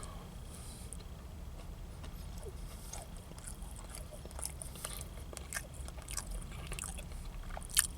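Close, crunchy bites and chewing on a chocolate chip cookie with crisp edges and semi-chocolate chips, a steady run of faint crackling crunches with no talk.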